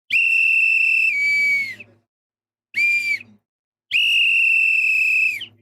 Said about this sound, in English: Referee's got the whistle in his mouth. It's about to be the hydration break right now.